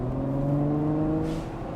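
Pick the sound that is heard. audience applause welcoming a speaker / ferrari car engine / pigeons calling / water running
ferrari car engine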